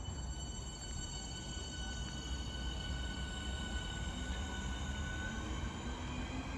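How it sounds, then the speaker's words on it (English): A Southeastern passenger train on the Charing Cross to Gravesend service passes at Northfleet, giving a continuous rumble of wheels and rolling stock with steady high tonal whines, fairly faint and unbroken. "the 1019 Southeastern service from London Charing Cross to Gravesend"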